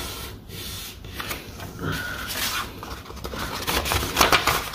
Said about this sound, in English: We'll fold around the pocket, just narrower than pocket, so we can tuck the layers into the pocket.